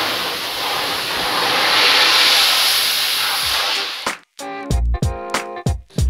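A pressure washer rinses degreaser off a screen printing frame, giving a loud, steady spray hiss for about four seconds before it cuts off and a voice speaks.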